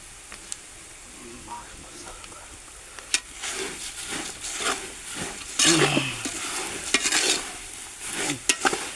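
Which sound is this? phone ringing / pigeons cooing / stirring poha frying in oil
stirring poha frying in oil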